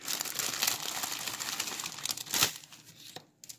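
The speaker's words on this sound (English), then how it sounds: "Sorry for the noise of the bag." Plastic packaging bag being crinkled and torn open while unboxing a monthly nail art supply pack, a close, busy rustling that fills most of the clip before fading into quieter crackles.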